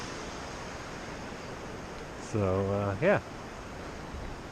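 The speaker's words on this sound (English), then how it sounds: "the water is just going over the road" Floodwater pours over a road beside a closed campground near Kearsarge, a steady broadband rush of flowing water that runs throughout, with a man's brief spoken remark rising over it partway through.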